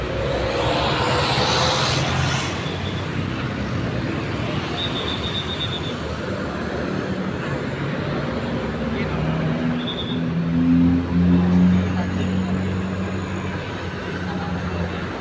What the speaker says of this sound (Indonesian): Itu ada bis maju lancar